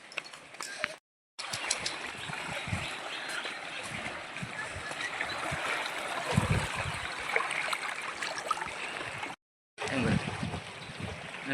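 Water of the Ganges river flows and laps steadily around a small boat, a close, continuous wash broken by two brief gaps, with faint voices now and then.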